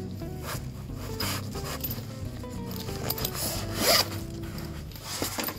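A zipper on a polyester Wenger Reload 14 backpack is pulled in several close rasping strokes, with rubbing fabric handling noise between them.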